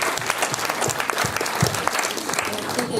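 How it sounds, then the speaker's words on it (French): Sustained applause from a festival audience at an international crime film festival in Liège, dense and lively clapping holding steady from start to finish with a few voices underneath. "les applaudir à nouveau."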